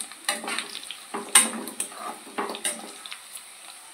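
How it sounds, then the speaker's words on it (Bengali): Bay leaves drop into hot mustard oil for a tempering, giving soft, irregular crackles and spattering pops, close by but fairly quiet, with no speech. "তো ফোড়নে আমি দিয়ে দিচ্ছি তেজপাতা,"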